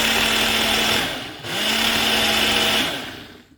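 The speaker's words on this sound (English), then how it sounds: "into the food processor and we're gonna process it again until super combined, completely combined" A food processor whirs through banana bread batter in two loud, steady bursts, a high motor whine over a low hum, dipping briefly between runs before winding down at the end.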